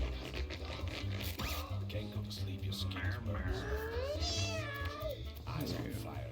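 Cartoon cats fighting in the game Mewgenics, rising yowls and meows with scratchy scuffling over constant game music and a voice talking.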